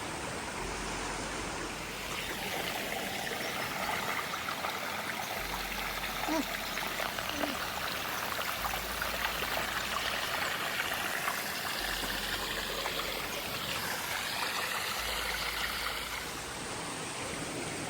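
A mountain stream near Chikar in Azad Kashmir flows over rocks toward a waterfall, a loud, steady broadband rush filling the whole stretch, close and continuous, with no clear talk over it.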